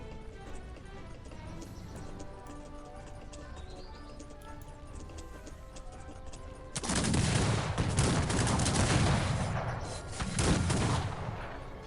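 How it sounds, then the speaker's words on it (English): Massed rifle volleys in the strategy game Cossacks 3 erupt suddenly and keep up as dense crackling fire over quieter battlefield ambience and background music. "Hopefully, our riflemen will be enough to deal with that."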